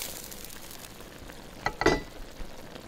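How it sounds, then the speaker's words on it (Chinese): Oysters pan-frying in hot oil in a wok give a faint, steady sizzle, with a brief louder burst of spitting crackle near the end and no one talking. "咱把生蚝啊煎至两面金黄。"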